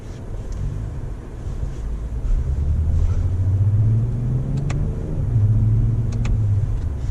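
A 2019 Toyota Avalon engine drones steadily as the car accelerates and rises in pitch, then dips briefly at a gear change, under constant road and wind rumble heard from inside the cabin.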